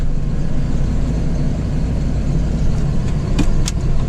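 A steady low engine rumble idles throughout, loud and continuous, with a couple of faint higher clicks near the end.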